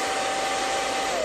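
A hair dryer blows heat onto twisted hair with a steady, close, whooshing roar and a faint tonal whine throughout, with no talking.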